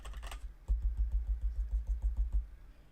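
Quiet, steady typing on a computer keyboard, a quick run of soft key clicks with a brief pause partway through, with no talking.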